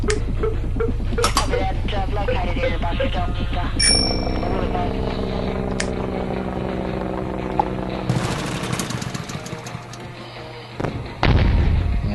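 Artillery shots fire in the zombie strategy game Atom Zombie Smasher, loud booms and bursts scattered over a dense game soundscape with chimes, with a heavy blast near the end.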